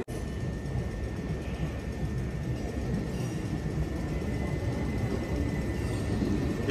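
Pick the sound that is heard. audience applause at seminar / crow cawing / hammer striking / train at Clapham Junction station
train at Clapham Junction station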